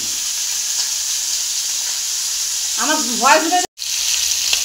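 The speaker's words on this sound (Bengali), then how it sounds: "মাছ ভাজা বসিয়ে দিয়েছি, দেখো মৌরলা মাছগুলোকে" Mourala fish frying in a pan, a constant loud sizzle with a brief clatter, while someone speaks a short line over it.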